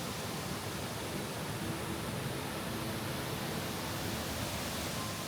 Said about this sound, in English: Powerful waterfalls with clear water, spraying mist that glows with the morning sun.